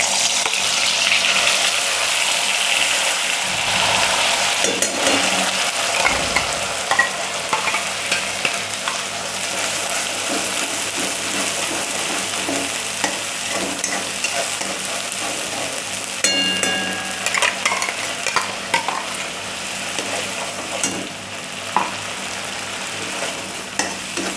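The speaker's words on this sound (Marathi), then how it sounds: "मसाला चांगला फ्राय करून घ्यायचा आहे" Ground masala paste for a surmai fish curry frying in very hot oil over low flame, a dense continuous sizzle with scattered crackles and occasional stirring scrapes, loud and close, with no voices.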